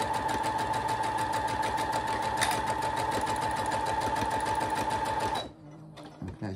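A sewing machine stitches a fabric pouch in a steady, rapid mechanical run for about five seconds, loud and close, then stops abruptly, leaving a few faint handling sounds.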